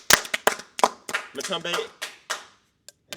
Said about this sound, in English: Round of applause for Matumbe real quick.